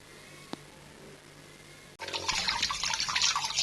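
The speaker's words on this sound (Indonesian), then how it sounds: "Rebus telur aku cuci dulu." Running tap water pours steadily over eggs being washed after a brief quiet start and a small click, a close, continuous splashing rush with no talking.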